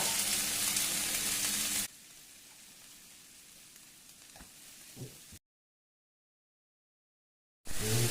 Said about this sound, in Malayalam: വെളിച്ചെണ്ണ ചൂടായിട്ടുണ്ട് ഇനി ഈ ക്യാബേജും ക്യാരറ്റും ഉള്ളി മുറിച്ചത് ഇതിലേക്ക് ഇടുന്നത്